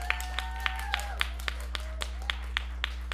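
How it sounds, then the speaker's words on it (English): Steady, evenly spaced hand claps at a film festival as the planning committee is recognized, crisp and fairly close, with a faint tonal hum and a brief voice-like sweep underneath. "please stand up so we can give you a round of applause"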